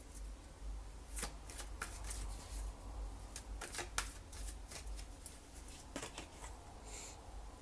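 Tarot cards are shuffled and drawn close by at a quiet level, making soft papery riffles and several sharp card flicks spread across a low background hum.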